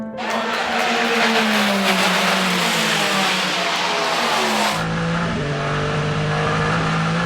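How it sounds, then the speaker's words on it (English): The number 8 Toyota race car passes two Porsches during the 6 Hours of Monza endurance race, its engine roaring loud and close with a steady high whine that drops in pitch as it goes by. "Here comes the number 8 Toyota passing both Porsches as they squabble for position."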